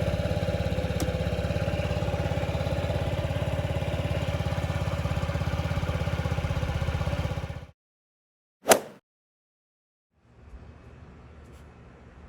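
A 2022 Honda Ruckus scooter engine idles at a steady, even hum for several seconds, then cuts out into silence, followed by a single sharp clunk and a faint low rumble.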